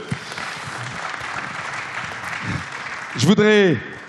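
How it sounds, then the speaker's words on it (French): Audience applause at an international Africa development forum, a steady broadband wash of clapping throughout, with a speaker's voice briefly rising over it near the end. "ça mérite des applaudissements"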